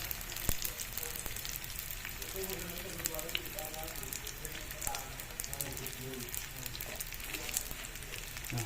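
Cheese-filled turon fries in hot oil, a steady fine crackling sizzle that runs throughout at low level, with a voice talking over it.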